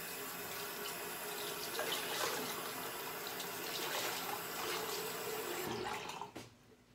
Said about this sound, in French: vous allez entendre un tout petit peu l'eau qui coule